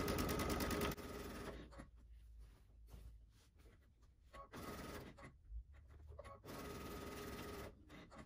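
A serger sewing machine pieces jelly roll quilt strips, running in loud bursts that start and stop several times, with quieter handling gaps between runs.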